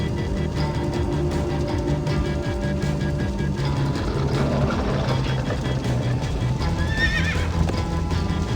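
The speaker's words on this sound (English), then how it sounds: "Slow down, horse!" In a video game, a horse whinnies while its galloping hooves beat steadily under a constant rumbling engine-like background, all at a fairly even loudness.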